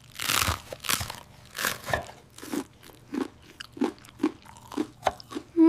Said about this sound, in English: I chew the food.